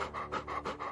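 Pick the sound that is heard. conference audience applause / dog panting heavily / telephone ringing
dog panting heavily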